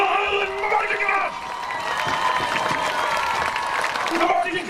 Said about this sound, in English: One more round of applause for the Pride of Highland, the Highland Marching